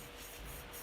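Hand rubbing across a tumbler coated in flat matte paint with smoke effects, a soft continuous low scraping friction that stays steady and quiet throughout.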